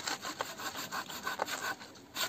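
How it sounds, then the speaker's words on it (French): A hand saw rasps through wood in steady back-and-forth strokes, close and fairly loud, with no talking. "Une scie ça s'utilise toute la longueur"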